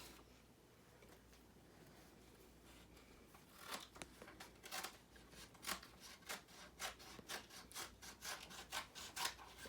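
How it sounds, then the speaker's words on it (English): Scissors snip through folded paper in a quiet room, a run of short crisp cuts close by in an open-shut rhythm, starting faint and turning steady and regular toward the end. "And now we're going to cut."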